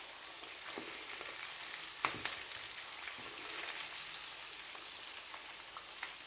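Fish pieces frying in hot oil for a choukouya dish give a steady, close crackling sizzle throughout, with a few sharper pops and spatters.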